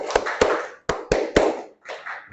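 A group performs the Tepuk Al-Kautsar clapping routine as a classroom ice breaker, with several sharp, loud, close claps in a rhythmic pattern separated by short pauses and ending in a looser run of hand taps.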